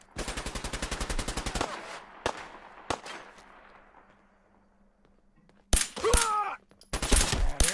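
Gunfire in Fallout 4: a rapid burst of automatic fire, then a few single shots fading into reverberation, followed by more loud close bursts mixed with game sound effects.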